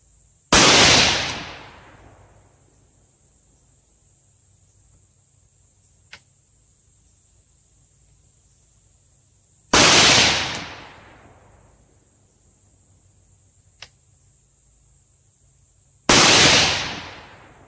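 Three loud 6.5 Grendel rifle shots ring out from an 18-inch Davidson Defense upper, each a sharp close crack with a ringing decay, spaced several seconds apart, with faint small clicks in between.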